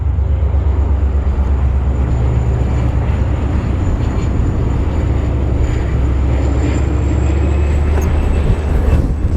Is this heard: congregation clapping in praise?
no